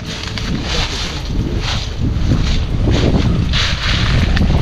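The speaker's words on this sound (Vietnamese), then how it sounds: "Anh em thấy tiếng gió, tiếng trên ngọn cây không?" Wind blowing through treetops, a loud rushing roar that surges and eases in gusts for several seconds, heard alone without voices.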